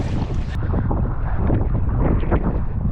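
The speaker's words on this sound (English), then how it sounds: "now we can feel that wind that they've been promising all day long" Strong wind buffets the microphone at sea during a sea kayaking trip in an inflatable kayak, a loud continuous roar with gusty surges, water sloshing beneath and no voices.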